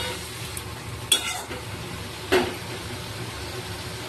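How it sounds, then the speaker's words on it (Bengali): Amudi fish curry with tomatoes in mustard oil being stirred in a pan: a low background sizzle broken by two sharp scraping clatters of the spatula, close up. "টমেটো ভালো করে নেড়ে ছেড়ে মাছটাকে রান্না করে ফেলবো"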